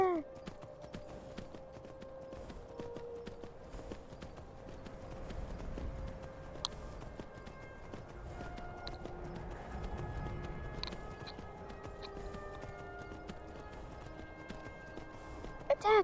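Horse hooves clop in a galloping rhythm in the VR game Skyrim, a soft, fairly faint beat beneath a voice and scattered game tones.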